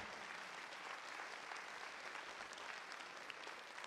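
A church congregation applauds during a Spanish-language morning service, a continuous, even wash of clapping that sounds faint and distant.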